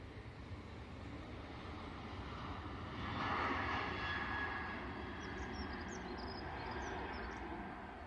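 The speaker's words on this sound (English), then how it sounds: "Ryanair on the roll. Ryanair is off to Alicante." A Ryanair Boeing 737-800 rolls for takeoff at Manchester Airport, a faint, steady jet engine roar that swells briefly before settling, heard alone with no talk.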